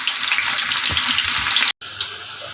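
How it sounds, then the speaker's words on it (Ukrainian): Sliced zucchini fries in hot oil over high heat, giving a loud, steady close sizzle that cuts out for a moment near the end and then resumes. "Просто закидаю на гарячу олію і смажу до золотистого на величенькому вогні."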